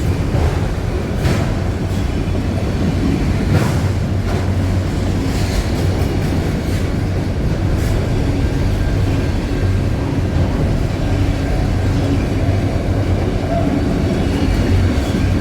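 Westbound freight train carrying auto racks and other cars rolling steadily past at close range in Lapeer, a continuous loud rumble with rail clatter and occasional squeals, no brakes evident.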